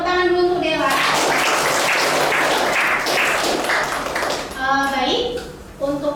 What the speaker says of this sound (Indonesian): Oke, tepuk tangan dulu untuk Dela.